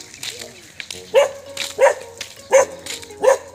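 A dog barks close by, about four sharp barks in an even rhythm, with softer whimpering and quiet voices between them.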